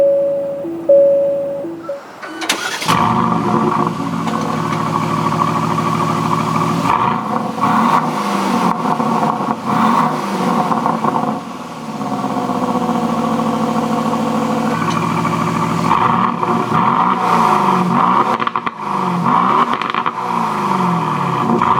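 A 2019 Aston Martin DB11 V8 starts with a sharp crank and bark near the three-second mark, then settles into a loud, close idle broken by several rising revs toward the end.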